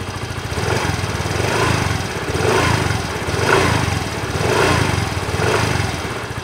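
Yamaha Mio i 125 scooter engine idling, a steady close mechanical chugging with a gently pulsing rhythm, running alone with no talk.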